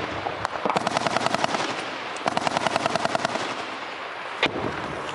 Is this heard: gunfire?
yes